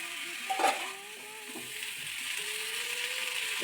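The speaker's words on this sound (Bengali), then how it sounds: "এবার আমি ঢাকনাটা খুলে একটু নেড়ে চেড়ে নিয়ে" Pumpkin greens are stirred in a pan after the lid comes off, giving a brief scrape and clink of utensil on metal followed by a quiet, steady sizzle; nobody speaks.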